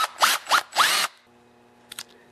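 The cover comes off a Walbro diaphragm carburetor for two-cycle outdoor power equipment: three short, loud, rising whirs of a power driver in quick succession, then near silence and a couple of faint clicks.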